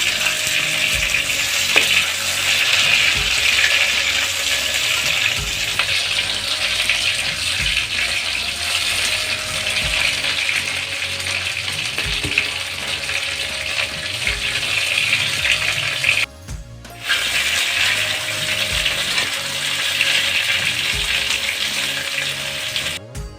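Slices of pointed gourd (potol) fry steadily in a pan, a loud, continuous sizzle and crackle with no voices, briefly cutting out for a moment before resuming.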